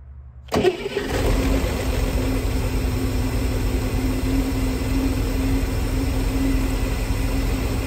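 A 1963 Chevrolet Corvair engine cranks and fires about half a second in, then settles into a loud, steady running drone close by, with no talking.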